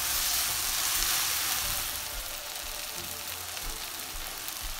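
Sliced onion sizzles steadily in hot oil with salt added while cooking chepa shutki (dried fermented fish) bhuna, a dense close frying hiss that eases slightly after the first two seconds, with no talk.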